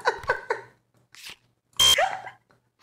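Sabotage alarm in the Among Us video game, a loud electronic blare that sounds briefly between bursts of nearby voices talking.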